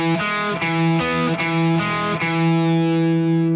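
Distorted electric guitar plays a riff from a song as a run of sharply picked notes, each a crisp attack over a thick sustained drone, finishing on a long ringing held chord.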